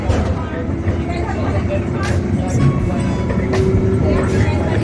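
Steady low rumble of the Franschhoek wine tram in South Africa rolling along the road, with a few brief bright squeals and clatters over the continuous drone; close and fairly loud throughout.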